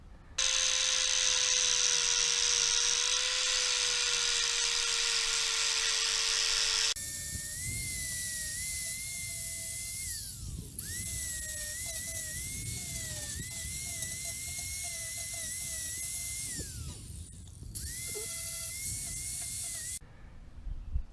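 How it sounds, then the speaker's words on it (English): A power grinder works through a crack in a car body panel on a Supra drift project, a loud steady whine that dips and rises in pitch as it bites, stopping briefly a few times. "So I'm going to grind that just like this."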